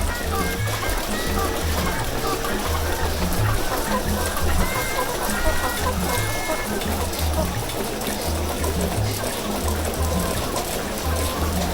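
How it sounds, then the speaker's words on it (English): Layer hens and broiler chickens cluck and call over each other inside a poultry farm house, forming a dense, steady flock din with a low mechanical hum underneath and people talking. "This is the poultry section, and in the poultry section we have broiler and then layers"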